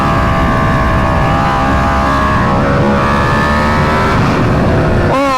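An Aprilia RSV4 motorcycle running a Gabro MTorque map roars loud and close, its engine note climbing and holding through gear changes, then dropping with a sharp rev near the end.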